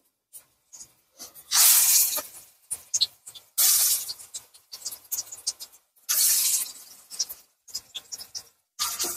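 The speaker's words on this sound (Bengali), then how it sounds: "এবারে কড়াতে তেল গরম করে এই যে পকোড়া ভেজে নিচ্ছি" Large pakoras frying in hot oil in a wok, loud close bursts of spitting sizzle as batter drops in, repeating several times and separated by quieter crackling gaps.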